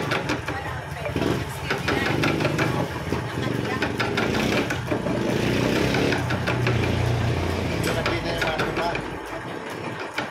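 Motor running in a workshop where a sprocket is being made, a steady mechanical hum with clattering texture, heard under someone talking for most of the stretch.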